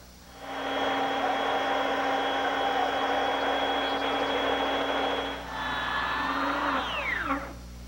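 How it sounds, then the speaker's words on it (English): A bandsaw cuts scallops out of a wooden post, a loud steady whining drone with a short dip near the end before the cut finishes and the blade winds down. "I suppose I could use my hand coping saw, but I'm going to use the bandsaw."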